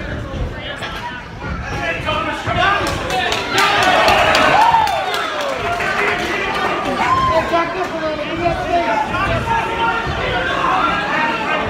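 Sold-out crowd at a Golden Gloves amateur boxing match in Fall River, Massachusetts, a dense continuous roar of chatter and shouts swelling midway, with a commentator talking over it.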